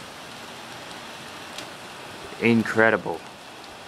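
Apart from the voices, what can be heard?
rain falling during a thunderstorm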